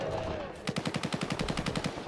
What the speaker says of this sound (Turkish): uzaktan böyle bir silah sesleri duymaya başladım